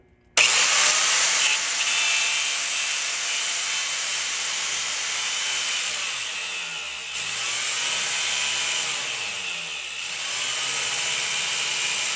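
An angle grinder with a cut-off wheel saws through a car's coil suspension spring, a loud sustained high-pitched abrasive whine running unbroken for about twelve seconds with slight dips in pitch.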